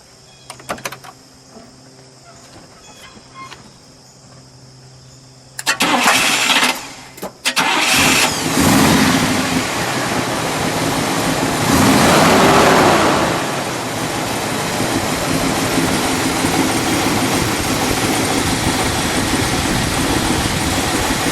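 A 1966 Buick Riviera GS with the factory dual-quad 425 V8 cranks briefly after some clunks, catches with a loud burst, then settles into a steady, close, rumbling idle.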